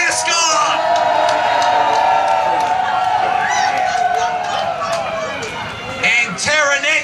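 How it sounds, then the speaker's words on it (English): A crowd at a motorcycle rally cheers, whoops and hollers loudly and close by, a sustained roar with scattered shouts rising near the end. "Round of applause for Mascot."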